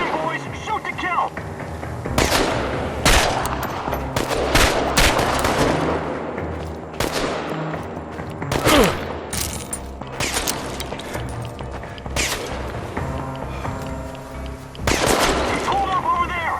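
Heavy gunfire in the Chernobylite video game, with loud, close volleys of rapid shots and bursts repeating through the whole passage, and voices shouting over the shooting.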